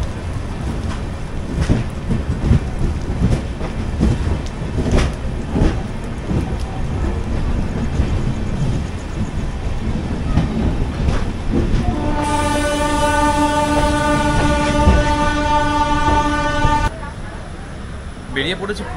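A Purulia-Howrah superfast express train running, with a loud, continuous rumble and rail clatter, then a long, sustained horn blast near the end before the noise drops slightly.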